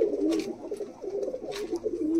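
Pigeons at a high-flying pigeon loft among trees give soft, repeated throaty coos, close and moderately loud, rising and falling over a couple of seconds with no talk.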